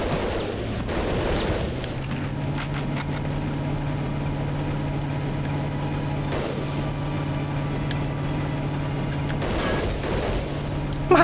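Gunfire in Medal of Honor Underground comes as scattered shots over a steady engine-like drone, loudest near the start and again toward the end.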